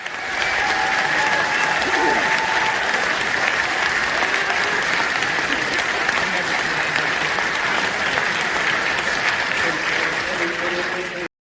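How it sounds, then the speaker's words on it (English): A large political rally crowd keeps up loud, continuous applause and cheering, a dense wall of clapping that holds steady throughout, with no single voice standing out. "Big cheer from the crowd"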